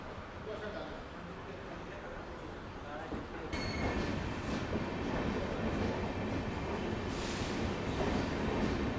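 A gleaming new Amrit Bharat Express rake pulls out of Lucknow's Gomti Nagar railway station with a low rumble and rising clatter of wheels, heard at moderate distance beneath voices on the platform.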